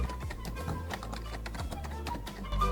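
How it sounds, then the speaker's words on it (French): Quiet typing on an RGB computer keyboard, a quick irregular patter of soft clicks close by, faint and steady against a low hum in the background. "Je vais vous laisser avec le bruit du clavier"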